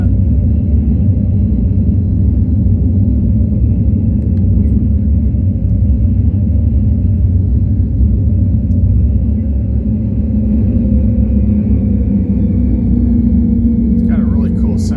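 An F-22 Raptor jet in the Star Citizen game roars through a touch-and-go pass, a heavy, continuous low rumble that stays loud and steady for the whole stretch.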